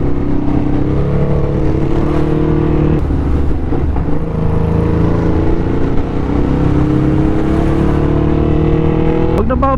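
Yamaha Tracer 9 GT motorcycle with its exhaust muffler on a year-end group ride, a loud, steady engine drone up close with slight shifts in pitch and constant road and wind noise.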